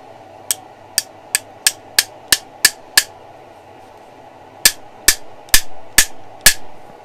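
Sharp hammer blows setting dry rivets into the wear plates of an Atlas 10-inch production lathe: a quick run of eight evenly spaced strikes, a pause, then six more ringing, slightly heavier hits.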